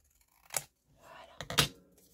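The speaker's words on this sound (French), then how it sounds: "J'aurais dû prendre directement les ciseaux." Two quick snips of scissors cutting a craft material, with a short rustle between them, close and crisp in a quiet room.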